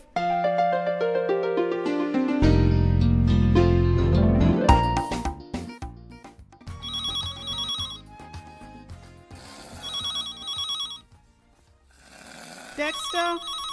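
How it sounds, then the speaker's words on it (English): A telephone ringing indoors, a series of bright repeating electronic ring tones in bursts preceded by musical notes, with no voices over it. "Answer the phone."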